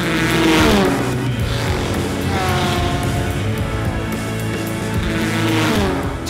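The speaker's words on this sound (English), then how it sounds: "The Ford Porsche battle with a Ferrari behind." Ford and Porsche race cars battling nose to tail with a Ferrari close behind at the Le Mans 24 Hours, their engines roaring loud and continuous as they rise and fall in pitch while passing.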